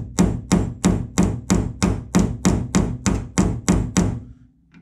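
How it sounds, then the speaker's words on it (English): A hammer strikes a center punch on a spot weld in the steel body of a classic Mini in a workshop: about a dozen sharp, evenly spaced metallic taps, close and loud, with no talking. "I'm just going to get a center punch just to help us align in the drill bit"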